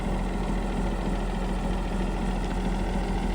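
A snowcat piste groomer's engine idles steadily close by, a continuous low rumbling drone with faint mechanical vibration and no other sounds over it.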